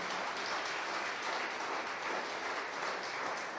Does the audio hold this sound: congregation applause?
yes